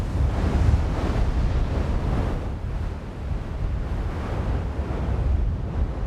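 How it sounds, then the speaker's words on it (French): Rough, stormy sea surging around Zavodovski Island, a remote volcanic island, a constant deep roar of waves and surf with heavy wind buffeting the microphone, no voices. "Elle est cernée par des eaux déchaînées"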